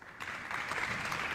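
Audience applause at a regional Talents des Cités award ceremony, a steady wash of clapping from a crowd that holds at an even level throughout without pause.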